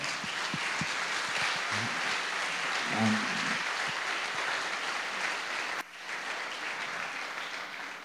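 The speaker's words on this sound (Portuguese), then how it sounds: "Você pode dar uma salva de palmas bem forte a Jesus?" Church congregation applauding loudly, a sustained, dense wash of many hands clapping that holds steady, dips briefly, then continues with a few thumps and faint voices mixed in.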